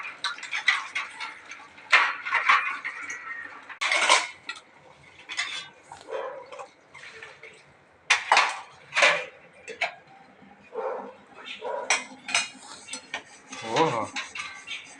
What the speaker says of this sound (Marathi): पाणी सांडतोय का भांडी धुतोय?